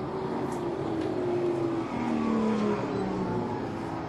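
Race cars at Flamboro Speedway roaring toward the finish line, a continuous engine drone with pitch slowly falling as they pass, moderately distant and steady throughout.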